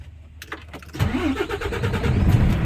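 A Volvo FM 420 8x4 BS6 truck diesel engine cranks briefly after a few faint clicks, then catches and settles into a loud, steady rumbling idle close by.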